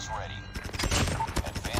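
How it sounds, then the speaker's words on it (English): A short burst of rapid gunfire in a shooter video game, with a shot fired through a wall, hits sharply in close succession amid game noise, with a voice briefly present. "I just shot that guy through the wall."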